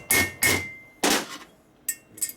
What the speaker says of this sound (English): You notice I didn't do any damage with a steel hammer.